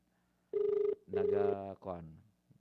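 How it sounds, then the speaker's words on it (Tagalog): A mayor's cellphone rings with a loud electronic tone in two long bursts, followed by a shorter third burst, close by in an otherwise quiet room. "Naga-ring ang cellphone ni Mayor."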